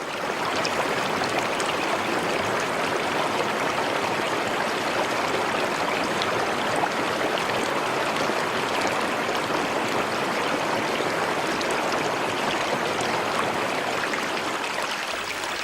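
A Baffin Island river rushes steadily and loudly, with continuous broadband water noise and no pauses or voices.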